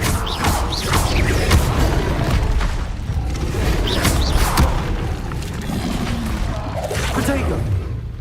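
The Incendio fire spell is cast in Hogwarts Legacy, with repeated booming bursts and whooshes rolling across the scene, mixed with voices.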